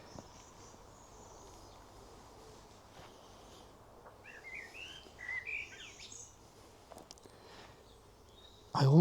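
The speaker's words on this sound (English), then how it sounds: "these birds that are singing, proclaiming their territory and advertising themselves for a mate" Faint birdsong chirps and trills in the distance over a quiet outdoor hum in an English garden in spring, with a louder thump at the very end.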